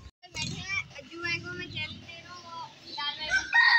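A rooster crows loudly and close by in a rural village setting, the harmonic call rising and carrying over several seconds while people chatter and laugh around it.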